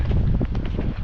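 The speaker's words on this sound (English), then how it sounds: "it's bitterly windy" Strong, bitterly cold winter wind buffets the microphone in a heavy, low roar, gusting continuously for about a second with no voice present.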